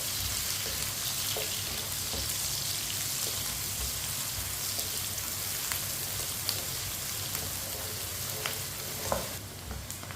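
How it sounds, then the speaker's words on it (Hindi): Chopped onion frying in a pan on lowered heat keeps up a steady, even sizzle and crackle for ten seconds, with faint scattered pops and no speech. "एक भी कटा हुआ प्याज, प्याज को भी 1 मिनट के लिए पका लेंगे।"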